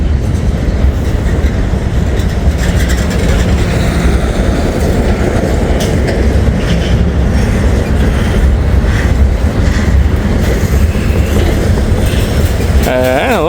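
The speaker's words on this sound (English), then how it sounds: "this is usually the gondola train is usually a very long train" A long gondola freight train rolls past a road crossing with a loud, continuous roar and clatter of wheels on rails, ending in a brief rising squeal, while someone talks intermittently over it.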